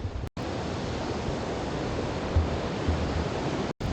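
A waterfall on the Mekong at Don Khone in Laos roars as a loud, dense, unbroken rush of falling water, with brief dropouts near the start and end.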